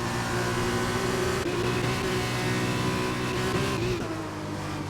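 F2 race cars roar together in a close sim race, engines held near full revs in a steady, loud drone with shifting pitch as they run side by side toward the line.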